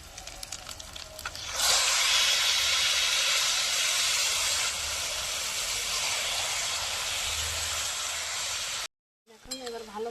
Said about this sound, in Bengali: এবারে দিয়ে দেবো খাসি মাংস।